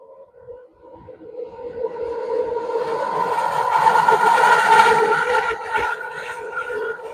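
A train passes by, a rolling rumble with a tonal hum that swells to a peak midway and then eases off slightly, heard alone without talk.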